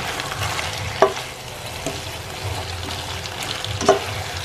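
Sardines cook in a pan for a pasta dish. A loud continuous sizzle carries a few distinct spatula knocks and scraping strokes spaced a couple of seconds apart, with no speech.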